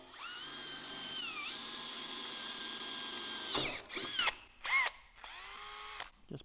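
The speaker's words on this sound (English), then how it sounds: "So 1/8 inch drill bit through the center" A power drill with a 1/8 inch bit bores out spot welds on a car body panel, a sustained high whine that rises under load, then several short bursts of drilling, close and alone.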